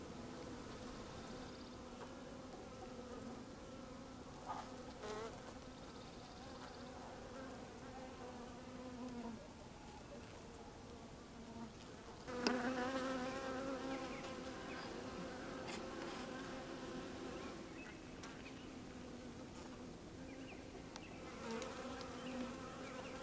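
Honeybees drone steadily around a hive on a cold day, with the brood being capped in wax. The buzzing is continuous and close, swelling briefly midway, with no talking.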